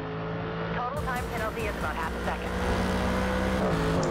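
A Mercedes-AMG race car in the Forza racing game at Hockenheim, its engine droning steadily while chasing another car, with pitch rising and falling through gear and throttle changes and some tire noise.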